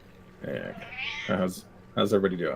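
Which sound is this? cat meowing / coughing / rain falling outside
cat meowing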